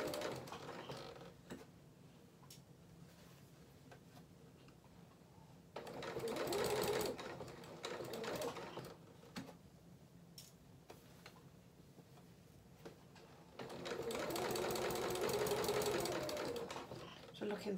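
A sewing machine stitching a princess seam on a dress bodice, running in two sustained bursts of fast, steady whirring, with quiet pauses between them and a person talking over it.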